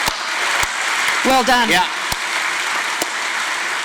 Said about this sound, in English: I think you know who deserves a big round of applause, the events team